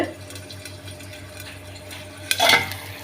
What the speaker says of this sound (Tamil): இந்த மாவை போட்டுட்டு நல்லா கிளறணும். கட்டி இல்லாமல் கிளறணும்.